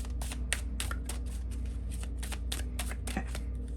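Thin-cardstock tarot cards are riffle shuffled again and again, giving repeated quick bursts of fluttering card clicks over a low steady hum, with no voices.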